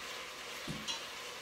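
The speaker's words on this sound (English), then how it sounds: "Y'all hear them taters frying in the background?" Faint, steady sizzling of potatoes frying in a pan, with a soft clink of a utensil partway through.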